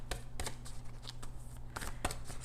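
Tarot cards being shuffled by hand in quick, soft riffling bursts, faint and close, with no talking over them.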